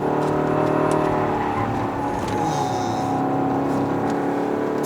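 BMW 520i M Sport driving hard on a winding road, a steady engine drone with shifting harmonic tones as revs rise and fall, loud and continuous with no talk.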